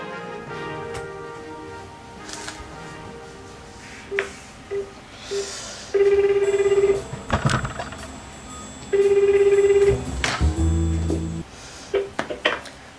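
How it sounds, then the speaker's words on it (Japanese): Phone call ringback tone heard as repeated long steady beeps, two clear rings with gaps between them, preceded by a few short dialing blips, fairly loud with no talking over it. "早速かけていきたいと思います。"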